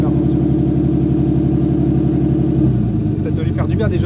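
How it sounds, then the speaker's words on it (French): A turbocharged BMW E36 engine runs with its rear silencer missing. It gives a loud, steady, deep drone that shifts in tone partway through, and people talk faintly toward the end. "Ça doit lui faire du bien déjà au moteur de tourner là."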